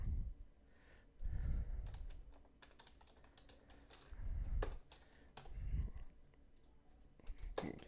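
Computer keyboard typing in bursts of quick, close clicks, with pauses between flurries and a few louder keystrokes, during game development coding; no talking.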